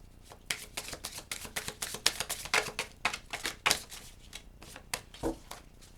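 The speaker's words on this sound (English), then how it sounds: "Can't shuffle this deck." A slippery deck of tarot cards riffled and shuffled by hand, a quick run of crisp flicking and slapping bursts, close up and irregular, with no voices.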